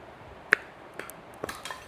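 A kitchen knife cutting onion gives a few faint, sparse clicks and light taps of the blade on a board, heard alone and quiet.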